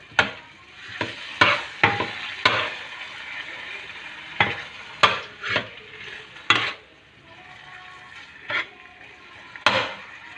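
Minced pork stir-fried with oyster sauce for spicy holy basil pork: a spatula scrapes and knocks against the pan in irregular bursts, about a dozen sharp strokes over a steady low sizzle, close and with no voices.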